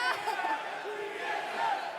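A large esports arena crowd at the 2016 League of Legends World Championship finals roars and chants in a sustained, dense wash of many voices, steady throughout with slight swells.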